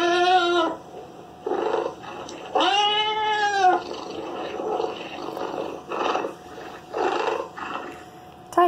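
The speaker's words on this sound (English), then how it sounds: "Tiger." A tiger gives a series of loud roars and growling moans, separate rumbling calls spaced about a second apart, with one long, strained roar in the middle.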